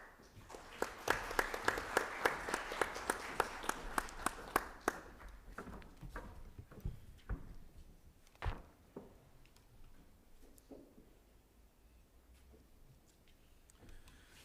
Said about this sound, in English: I'm happy that you clapped hands